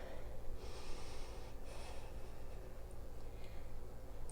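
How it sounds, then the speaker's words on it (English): Deep, slow breathing during a yoga flow, soft airy inhales and exhales close up that rise and fall through a steady hiss, with no talking. "Breathing deep, breathing slow."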